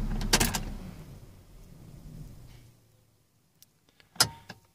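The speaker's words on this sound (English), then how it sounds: "So I'm going to turn the engine off." A Holden Captiva car engine is switched off: a loud rumble dies away over about three seconds, followed by near silence and then a few sharp clicks and a bump, likely from the door or interior.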